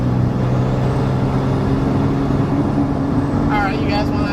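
A Nissan 240SX engine drones steadily from inside the cabin, then gives a brief rising blip of revs near the end as the manual gearbox drops from fourth during a rev-match downshift.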